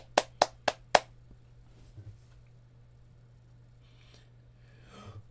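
Four quick, sharp hand claps ring out close by in steady succession at a festive opening-day gathering, followed by near silence over a low steady hum.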